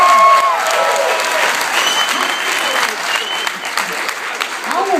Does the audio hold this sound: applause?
yes